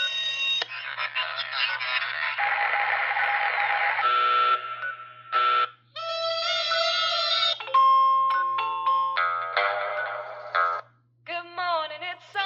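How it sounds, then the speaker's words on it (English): A series of different electronic alarm tones from The Wand Company Pip-boy alarm clock play one after another: buzzing beeps, melodic chimes and warbling tones, loud and close, separated by brief gaps. "at the moment, there's some different alarm sounds on it"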